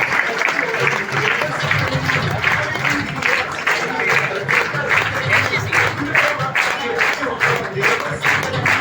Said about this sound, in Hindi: जोरदार तालियों के साथ स्वागत करेंगे इन सारे लोगों का।